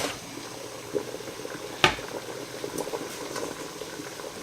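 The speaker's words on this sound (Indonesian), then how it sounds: "Ini udah panas, udah mendidih." Water boils steadily in a steamer for making Indonesian lapis sagu, with a soft, continuous bubbling and one sharp pop or clink near the middle.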